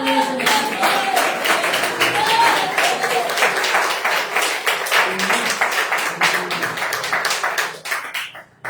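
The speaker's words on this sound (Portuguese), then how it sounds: "Vamos receber a serva do Senhor com as palmas bem alegres para o Senhor." Church congregation clapping joyfully in quick, steady rhythm to welcome someone during a service, many hands striking crisp and close for the full stretch before tapering off at the end.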